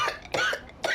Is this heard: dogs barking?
no